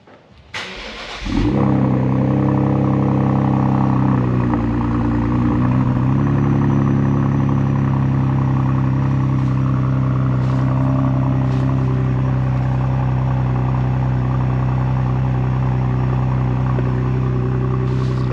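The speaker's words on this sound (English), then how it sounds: "E85 cold start." A Ford Explorer ST with a thermal R&D 3-inch exhaust, running on E85, cranks briefly and fires into a cold start. It flares loud at first, then settles into a steady, throaty high idle that carries on without a break.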